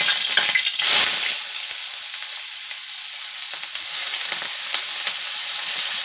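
Chopped onion hits hot oil in a wok with a loud burst of sizzling, settling into a steady close crackling fry with a few light clinks.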